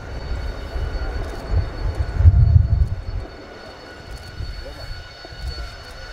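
Spanish Navy EAV-8B Harrier II+ jet engine during an air show flying display, a continuous distant roar that swells to a loud low rumble around the midpoint, then fades to a steady background drone.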